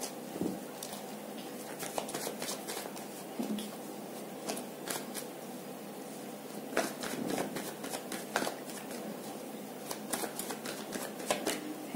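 Tarot cards are shuffled at length: a steady, close riffling and flicking patter with sharp card snaps scattered throughout and no talking.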